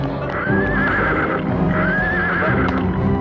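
A horse neighs twice in loud, close whinnies about a second and a half apart, over a continuous busy background of hoof clatter and rumble.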